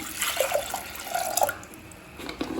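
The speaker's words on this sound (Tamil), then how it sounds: "1/2 கப் தண்ணி சேர்த்துக்கலாம்." Water is poured from a cup onto washed toor dal for a radish sambar, a short close splashing trickle that gurgles and tapers off at the end.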